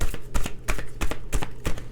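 Rapid riffling bursts of a deck of cards being shuffled, several quick flutters in a row, close and fairly loud.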